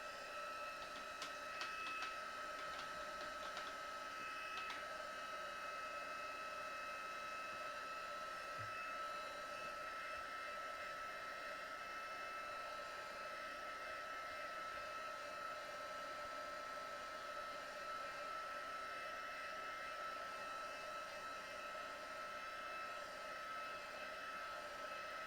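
A hair dryer dries a watercolour Christmas snowman painting with a steady, even airy whir and hum that runs unbroken for the whole stretch, fairly faint.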